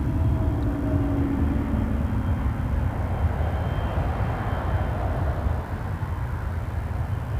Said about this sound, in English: This is going to Buffalo, Cessna Citation.